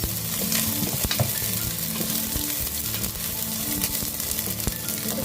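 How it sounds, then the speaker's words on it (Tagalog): Garlic and onion fry in hot oil as the base for a Filipino sopas, a loud continuous sizzle broken by repeated close scrapes and clatters of a spatula stirring in the pan. "igisa natin ang ating bawang"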